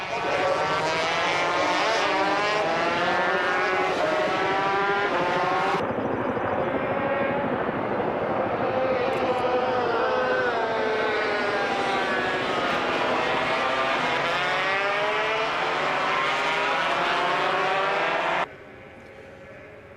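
Grand Prix motorcycles race at the Austrian Grand Prix, their loud, high-revving engines whining and rising and falling in pitch as riders brake and overtake, forming a continuous roar that cuts off abruptly near the end.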